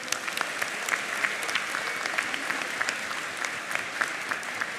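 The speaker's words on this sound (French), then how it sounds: "On peut les applaudir, s'il vous plaît." Audience applause at a YouTuber conference panel during a gaming show in Toulouse, a steady dense wash of clapping from a sizeable crowd lasting throughout, with sharper individual claps standing out now and then.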